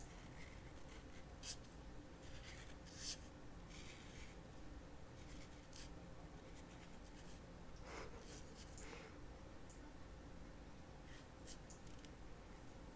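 Soft scratching of a pen or pencil drawing an animal on a paper totem, with faint intermittent strokes over a steady low hiss in a quiet room.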